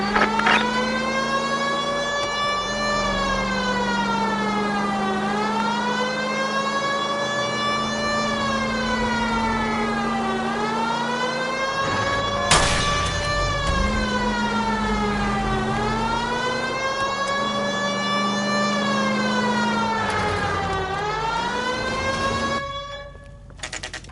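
Rising and falling wail of a police car siren while driving in the detective game L.A. Noire, loud and continuous over engine drone, with a sharp click midway and the siren cutting off at the end.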